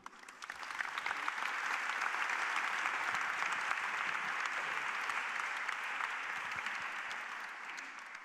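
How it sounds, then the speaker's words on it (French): A debate audience applauds a scientist and academician as he is introduced, clapping swelling in over the first second, holding thick and steady, then easing slightly toward the end. "Merci d'applaudir Gérard Berry."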